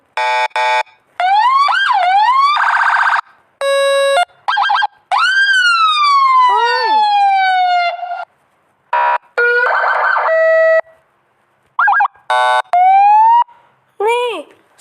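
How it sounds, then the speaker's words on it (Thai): Bursts of ambulance siren tones switch rapidly between wails, yelps and steady beeps, loud and choppy with short silences between patterns. "มันเหมือนเก็บเสียงรถพยาบาล"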